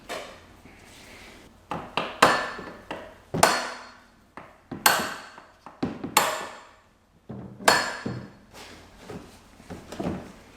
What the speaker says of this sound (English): you can give it a couple of taps on the front with a rubber mallet